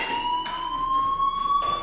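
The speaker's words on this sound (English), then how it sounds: "Hey, do you hear that fire alarm? That means you should be outside." A fire alarm rings in the video game Life is Strange, a steady electronic tone held throughout, loud and close, with faint rhythmic pulsing beneath it.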